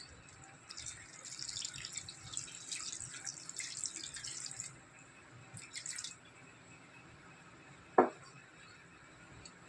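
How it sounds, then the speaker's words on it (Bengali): Water is poured into a pan of country chicken curry, a hissing trickle for several seconds that stops, resumes briefly, and ends with a single sharp knock of the vessel. "পরিমাণ মতো এতে জল দিয়ে দেবেন"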